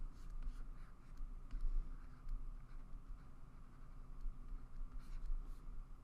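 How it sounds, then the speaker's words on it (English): A pen scratches across paper while a small figure is drawn, a continuous close scribbling texture with short strokes and taps over a steady low background rumble. "if I was to draw this guy smaller"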